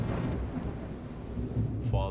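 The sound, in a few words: thunder and rain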